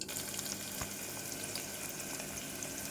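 Onions frying in a pan for rajma curry give a faint, even sizzle and crackle, close and continuous, with no voices over it.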